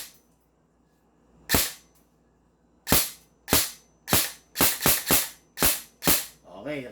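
An airsoft SigSauer M4 MCQB rifle fires eight sharp snapping shots, a single one followed by a quicker, uneven string of seven, each crisp and close against a quiet background.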